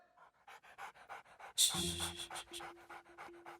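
A dog pants quickly and rhythmically at close range, with a short burst of louder noise breaking in midway before the steady panting carries on.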